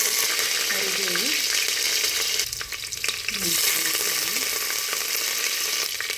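A tempering of mustard seeds, garlic and curry leaves sizzles steadily in hot coconut oil, a loud, continuous frying hiss that briefly dips before rising again, with a faint voice underneath.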